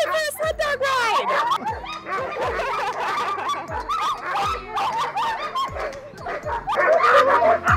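Excited sled dogs in Alaska's Mat-Su Valley bark, yip and whimper continuously at close range, a dense overlapping chorus, with people talking over the din.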